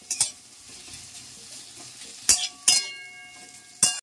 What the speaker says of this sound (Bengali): আমি আবার কিছুক্ষণ পরে আবার গ্যাস ঢাকনা খুলে আবার নাড়ালাম।